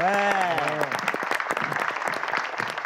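Studio audience applauding to welcome a guest doctor, a nutrition expert, onto a Pakistani comedy TV show; dense, loud clapping fills the room, opening under a host's voice that fades as the applause carries on alone.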